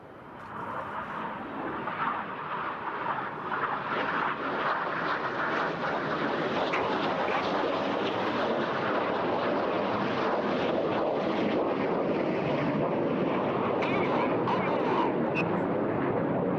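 Red Arrows synchro pair jets fly double rolls at the Eastbourne airshow, their roar swelling from a quieter start into a sustained loud rushing howl with wind buffeting the microphone.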